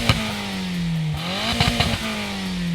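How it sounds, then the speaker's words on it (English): A modified car's twin exhaust pipes drone steadily at idle, briefly revving with a few sharp pops and crackles before settling back. "you have got 2 exhaust pipes. They are very hot and they make a lot of noise."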